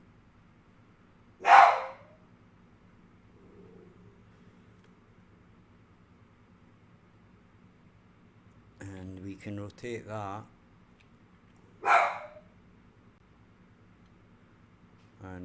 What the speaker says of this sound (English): now the dog's getting upset about something.